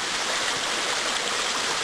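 Creek water flows steadily over rocks, a dense, loud, unbroken rushing hiss with no voices.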